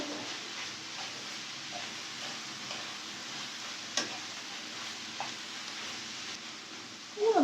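Vegetable filling for msemen is stirred and mixed in a pan, a soft continuous sizzling wash with scattered light taps and scrapes, a louder clatter right at the end.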